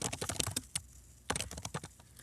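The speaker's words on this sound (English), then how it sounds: "From here, I can start typing in my citations." Typing on a computer keyboard while entering citations into a document, heard as quick bursts of close, crisp key clicks with a short pause in the middle and no talking.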